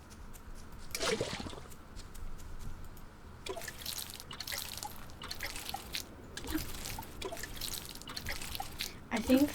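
Crops being watered in the farming video game Grimshire, soft splashing drips and short trickling bursts that recur at intervals, fairly faint, under someone talking.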